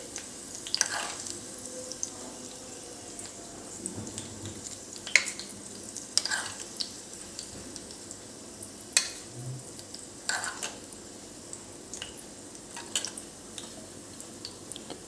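Hot tempering oil poured over moong dal dhokla sizzles and crackles in scattered bursts of pops, fairly quiet and close, with short pauses between the sputters and no talking.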